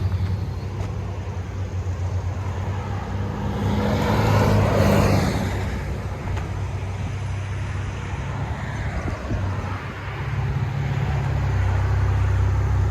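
A 2012 Chevy Camaro RS V6 fitted with Vibrant resonators idles steadily nearby, a continuous low engine rumble with a slight swell around the middle, heard alone.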